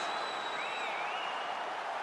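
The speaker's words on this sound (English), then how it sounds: "So the crowd voicing its appreciation after that round." Crowd in a PS5 UFC fight game applauding after a round, a steady wash of clapping and cheering heard from a distance, moderately faint and continuous, with no talking over it.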